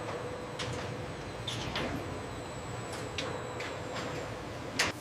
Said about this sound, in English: Doors are opening now.